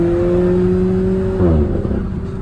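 An Alfa Romeo 4C Competizione with its engine mounted just behind the cabin, heard from inside as a loud, steady droning note that then drops in pitch as the revs fall. Nobody speaks.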